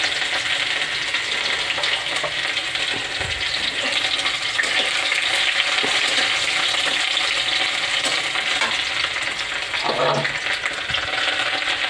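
Panch phoron, bay leaf, dried red chilli and onion fry in hot oil in a kadai, a steady loud sizzle running throughout with a brief clatter near the end.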